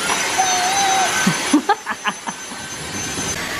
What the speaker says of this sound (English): that's a cordless vacuum